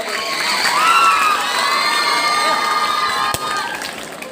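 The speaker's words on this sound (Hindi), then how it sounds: "मैं स्टूडेंट लोगों से आग्रह करता हूँ कि एक बार जोरदार ताली बजा दें।" Students at a school quiz contest burst into loud cheering and clapping, a lively crowd of young voices filling the room for a few seconds.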